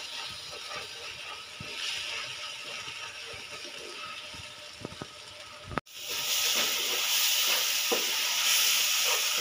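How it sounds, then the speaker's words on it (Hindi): Powdered spices such as turmeric, red chili, chili flakes, garam masala and dried coriander fry in oil in a pan, a soft steady sizzle with a few stirring knocks, jumping to a louder, brighter hiss partway through. "ये सारे मसाले इसमें डाल के इसे थोड़ी देर के लिए भूनेंगे।"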